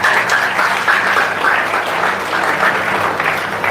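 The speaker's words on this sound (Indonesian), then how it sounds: "Tepuk tangan untuk Tuhan kita." A congregation claps steadily at a healing revival service in a ballroom, dense sustained applause filling the room at close range with no voices over it.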